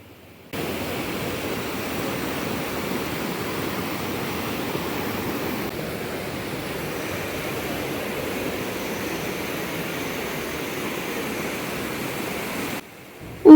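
The Baldi river flows near a bridge in Dehradun, a steady broadband rush of water that starts abruptly, holds at an even, fairly loud level throughout, then cuts off near the end, with no talking.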